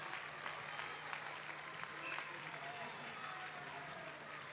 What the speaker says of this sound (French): Gardez le rythme de vos applaudissements de la même intensité